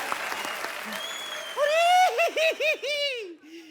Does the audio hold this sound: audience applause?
yes